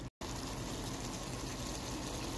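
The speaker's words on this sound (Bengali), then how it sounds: "চিকেন আলু কষানো শেষ, এখন দিয়ে দেব গরম পানি।" Hot water pours steadily into a pan of browned chicken and potato curry, a continuous close gushing wash after a brief silent gap at the start, with no talking.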